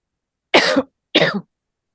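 Two separate harsh coughs, close and loud, spaced about half a second apart with silence around them.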